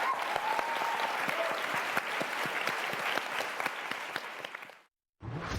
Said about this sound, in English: one more round of applause for our panelists today